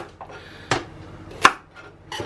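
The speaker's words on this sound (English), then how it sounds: "using a not sponsored Barry Lewis chopping doodad thing" Food being chopped with a manual chopper gadget during kitchen prep: a few sharp, separate chopping clacks close by, with quiet gaps between them and no talking.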